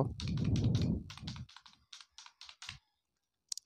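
Aadhaar number typed on a computer keyboard, a quick run of close, crisp key clicks in an uneven rhythm, ending with a final isolated tap, preceded by a brief low rumble.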